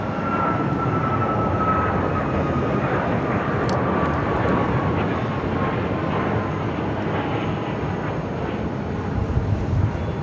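Boeing 737 jet departing Phoenix airport, a sustained, loud engine roar with a faint whining tone that holds steady for ten seconds, no voices over it.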